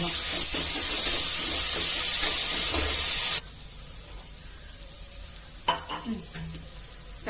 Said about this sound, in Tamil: இஞ்சி பூண்டு வெங்காயம் பச்சை மிளகாய் சோம்பு எல்லாம் போட்டு வளர்த்துருக்கோம் இனியும் வதக்கி